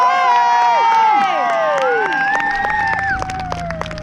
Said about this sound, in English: Give the biggest, the loudest cheer you've ever given for the Trebuchet!